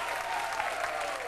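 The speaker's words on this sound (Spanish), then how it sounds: "¡Un aplauso grande!" A studio audience on a Spanish-language variety show applauds, a brief, full burst of clapping at moderate loudness with no pause.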